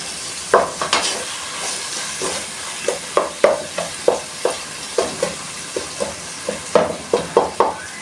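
Meat sizzles steadily in a frying pan while a utensil stirs and pushes the pieces apart, giving a series of sharp scraping knocks in an uneven rhythm over the constant frying hiss.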